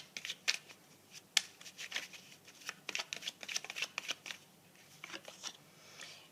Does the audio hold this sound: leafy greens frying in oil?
no